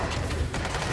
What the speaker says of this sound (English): I think I ran straight into a grenade